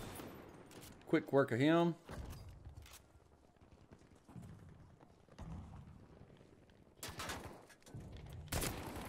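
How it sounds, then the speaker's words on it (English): Battlefield 5 gunfire in an online match: scattered bursts and single shots, some distant and some nearer, mixed with other game noise while someone talks briefly over it. "Oh, we're being shot at from the right."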